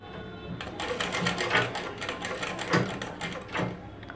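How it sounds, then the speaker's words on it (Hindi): A sewing machine runs in steady bursts as it stitches a rounded bell sleeve seam, its motor whirring and needle ticking close by, with slight pauses and speed changes between runs. "चलिए करते सिलाई।"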